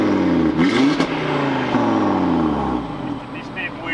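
An Audi RS3's five-cylinder engine is blipped, quick throttle rises and falls with a burbling, rumbling tone, loud and close, settling to a lower idle over a few seconds.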